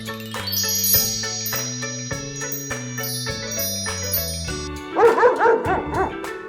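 A short burst of dog barking and yapping breaks in near the end over a bouncy tune that plays throughout.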